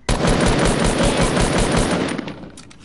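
Rapid automatic gunfire from an online duos shooter game rattles loud and continuous for about two seconds, then thins out into a few scattered shots.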